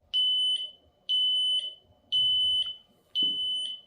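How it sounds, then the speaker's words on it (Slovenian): A home security camera's built-in 95 dB siren alarm sounds four loud, piercing electronic beeps, each lasting about half a second and spaced evenly about a second apart, alone and close. "Vgrajeno ima tudi sireno oziroma alarm, ki s svojimi 95 decibeli prestraši vsiljivce in opozori okolico"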